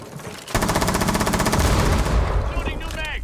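A rapid automatic weapon fires during a firefight in the video game Skyscraper. After a brief pause the burst starts sharply and stays loud and close for about three seconds.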